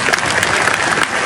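A modest audience at a shareholder meeting with Warren Buffett and Bill Gates claps loudly and steadily in a brief, continuous burst.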